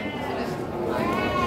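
Young female Jawa Randu goats, about four to five months old, bleat in a steady wavering cry that runs close and fairly loud for the whole moment, with a voice talking over it.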